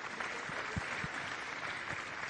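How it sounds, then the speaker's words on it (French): Steady applause from an audience at an opening ceremony in a social-housing neighbourhood, dense and even with no voices over it, and a few low thumps scattered through. "Merci de l'applaudir"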